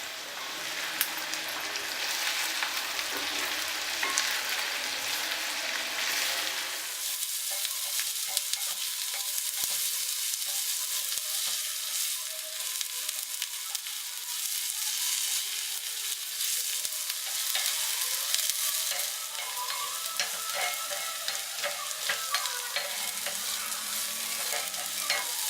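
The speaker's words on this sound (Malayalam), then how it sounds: "ഉള്ളിയും മുളകും ഒക്കെ ഒരുവിധം മൂത്ത് വന്നിട്ടുണ്ട്." Onion, chili, fennel seeds and grated coconut fry together in a pan in a Kerala kitchen, making a continuous crackling sizzle like light rain, with stirring scrapes throughout, steady and close.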